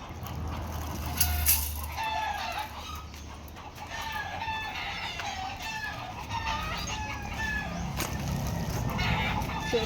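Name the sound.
chicken clucking and rooster crowing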